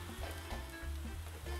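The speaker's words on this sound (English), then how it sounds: "You want to stir fry this until most of the moisture from the tuna has evaporated." Tuna with tomato puree sizzling in a pan while being stir fried, a soft, steady crackle and hiss that runs throughout at low volume, with faint stirring movements.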